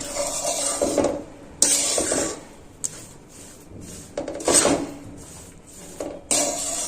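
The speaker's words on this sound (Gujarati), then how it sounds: "આ રીતે આપણે થોડી થોડી ખાંડ એડ કરતું જવાનું, મિક્સ કરતું જવાનું છે." A utensil stirs sugar into an adadiya mixture of sweetened urad flour in a pan, producing intermittent close scrapes and sharp metallic clinks in irregular bursts, with quieter gaps between strokes.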